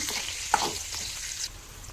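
Brinjal pieces and masala frying in oil for an eggplant curry, a steady close sizzle with a brief louder spit or stir near the start, no talking.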